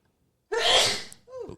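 A single loud, close sneeze bursts out after a moment of silence, followed by a short breathy intake of air.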